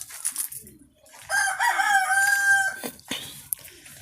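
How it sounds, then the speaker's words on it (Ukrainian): A young rooster on a backyard farm gives one clear, drawn-out crow, close and loud, with faint clucks and rustling from other fowl before and after. "Зараз гуляють півники."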